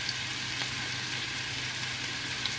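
Lamb meatballs browning in a hot pan give a steady, close frying sizzle with a broad crackling hiss that never lets up, and no one speaks.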